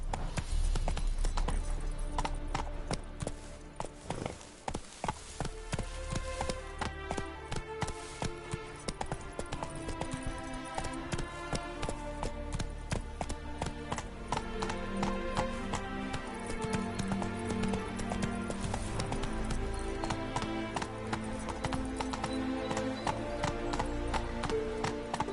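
Hoofbeats of Roach, Geralt's horse in The Witcher 3, galloping through Skellige in steady clip-clop rhythm under loud game music and ambience, with an occasional whinny.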